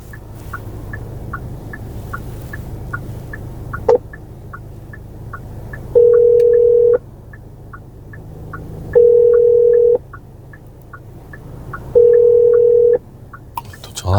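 A taxi driver's phone call to a customer rings out unanswered: three steady ringback tones about a second long, spaced roughly three seconds apart, over a constant low engine and road hum inside the car.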